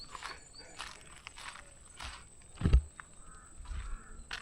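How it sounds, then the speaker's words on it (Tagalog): Birds call faintly in a quiet outdoor space on Mt. Camisong, Itogon, Benguet, with a few scattered chirps and a louder low thump partway through. "Yung huni ng ibon na lang yung naririnig natin"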